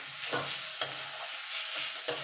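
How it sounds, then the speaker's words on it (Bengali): A cauliflower chop filling being stirred in a frying pan, with scraping stir strokes over a steady low sizzle that repeats a few times at close range, no voices. "এবার একটুখানি নাড়াচাড়া করে নেব"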